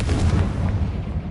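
A Confringo fire spell blasts in Hogwarts Legacy, a loud, dense low rumble sustained through the whole moment like heavy artillery fire.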